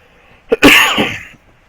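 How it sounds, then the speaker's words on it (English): A single sharp cough, preceded by a quick catch of breath, bursts loudly and close into the microphone, then stops. "Sorry about coughing on the mic."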